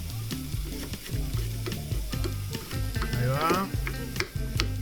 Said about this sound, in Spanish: Terminamos de cortar nuestros morrones, que van a ir con las cebollas a saltearse.